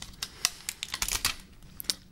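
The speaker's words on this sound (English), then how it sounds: "So let's pull off all these stickers." Stickers are peeled off a Samsung Galaxy S4 Zoom box, giving sharp, irregular crackling rips and snaps of plastic and paper, close and fairly loud, with brief gaps between pulls and no voices.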